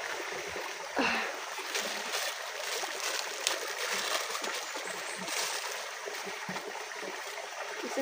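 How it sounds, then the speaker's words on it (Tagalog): Water rushing in a mountain stream, a continuous moderately loud hiss and gurgle with small splashes, heard alone without talk. "maliban sa tunog ng tubig."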